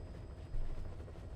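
Helicopter in a video game's helicopter wave mission, heard as a steady low rotor rumble that holds moderately loud throughout with no voices over it.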